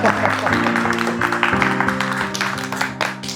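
Family members clapping at an anniversary celebration at home, scattered uneven hand claps mixed with overlapping voices and chatter nearby.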